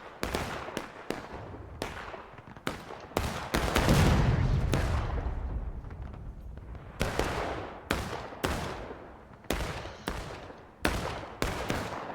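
Gunfire crackles through a Civil War video game battle in a rapid sequence of sharp, loud shots, some isolated and some in dense volleys, with a heavier rumbling burst partway through.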